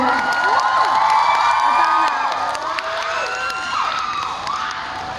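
A crowd at a birthday celebration cheers loudly, with high whoops and shouts rising and falling over a continuous roar of voices and some clapping mixed in.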